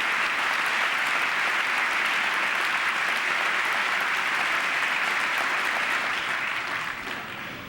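An audience at a State of the Union address applauds loudly and continuously, a dense wash of clapping filling the hall that holds steady before easing slightly at the end.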